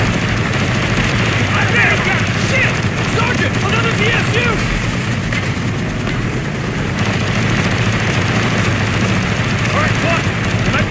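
Dense, continuous gunfire and battle noise from the Call of Duty Black Ops video game, loud and sustained throughout with no clear pauses.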